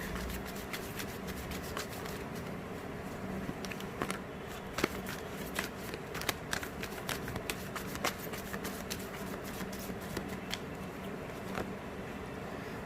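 Tarot cards being shuffled by hand, a steady soft riffling and slapping that runs throughout with occasional sharper flicks, close and moderately quiet with no talking.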